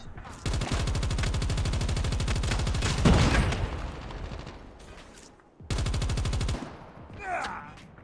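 Rapid automatic gunfire from a COD Mobile match as a player shoots down an enemy UAV, a loud sustained burst of several seconds, a brief pause, then another short burst followed by a faint electronic tail.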